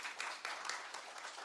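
Congregation applause at a Sunday morning church service, a fairly quiet, steady patter of many hands clapping at once, continuing evenly with no voices over it.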